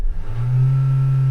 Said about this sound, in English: How quick this engine starts up when you floor the throttle.